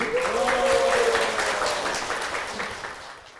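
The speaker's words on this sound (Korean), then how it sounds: "박수로 모실게요" A church congregation applauds to welcome an evangelist guest onto a broadcast stage, full clapping that swells briefly and then gradually fades toward the end.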